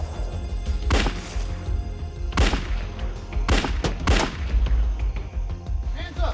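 Several sharp, loud gunshots from a police confrontation with a fugitive armed with a .357 Magnum, fired in an irregular burst: one, then a single shot, then three quick cracks close together, over a steady background rumble.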